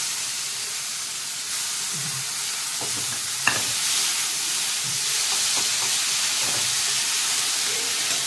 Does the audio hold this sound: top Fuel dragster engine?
no